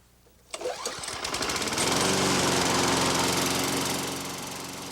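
A petrol lawn mower starts up close by and settles into a loud, steady engine drone while cutting a backyard lawn, with no talking over it.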